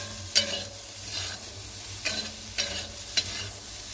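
Soya vegetable rice stirred in a pan, a few distinct scraping spatula strokes over a steady low sizzle, close and alone.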